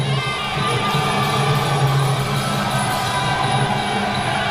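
A packed crowd at a Muay Thai fight, the Sanaek versus Phetthongkham bout, roars and cheers loudly and continuously, with shouting voices layered through a dense wall of noise.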